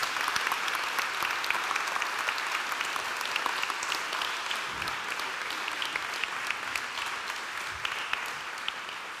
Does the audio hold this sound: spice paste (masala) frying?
no